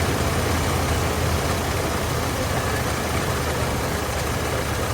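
A car engine idles while its carburetor is adjusted, the revs rising and falling in a steady, loud rumble that fills the whole stretch without pause.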